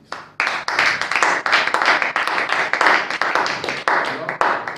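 A church congregation claps to acclaim the Holy Spirit, close and loud, with a steady patter of many hands in an uneven rhythm that carries throughout, voices mixed in underneath.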